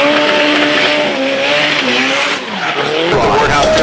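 A drift car slides sideways at Red Bull Drift Shifters in Liverpool, its engine note wavering through a long tire squeal, loud and near, with an announcer's voice over it.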